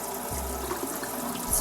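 Warm water running from a tap into a container, a steady close rushing stream lasting the whole short stretch with no voices.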